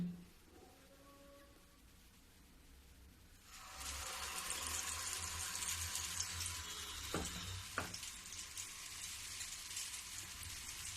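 Malpua batter hitting hot oil in a kadhai: a sudden loud, steady sizzle of frying that starts a few seconds in and keeps going, with a couple of faint clinks. No one talks.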